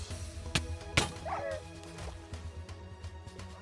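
Dog barks and yips in a Minecraft game during a Hunger Games match, a few short sharp sounds among clicks and game noises, with a whimper-like cry.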